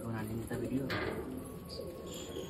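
Pigeons coo softly in the background while people talk nearby, with a faint steady hum underneath.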